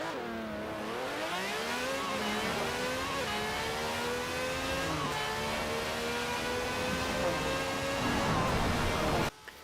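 A 1000-horsepower car accelerates hard in Forza Horizon 4, the engine note climbing steadily through the gears in a continuous loud, close roar with brief dips at each shift.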